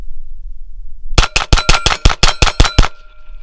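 Volquartsen Scorpion pistol fires about ten quick shots at a steel plate, loud and evenly spaced, with a metallic ring trailing after the last shot.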